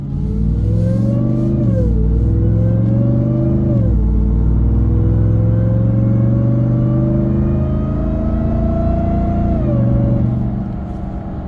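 A Ram TRX truck fitted with a K&N full intake and 37-inch tires revs its engine loudly and close up, rising and falling through several throttle blips before settling into a steady, rising drone, with no talk.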